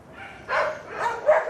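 Dogs bark and yip in a few quick, close bursts at the SPCA quarantine centre in Sandakan, Sabah, with a whiny edge to the calls.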